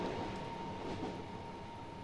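A train runs on the Medway Valley Line in Train Simulator 2018, a quiet, steady low rumble with a faint constant tone and no speech.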